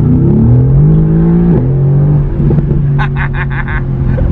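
A Mercedes AMG GTR engine rumbles and revs close by, its pitch sweeping up and down before a sharp downshift, then a quick series of popping blips near the end.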